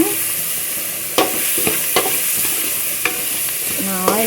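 Onion sautés in a generous amount of oil in a pan, a continuous close sizzle punctuated by several sharp scraping stirs of a spatula, with no talking.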